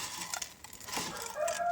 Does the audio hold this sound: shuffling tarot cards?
no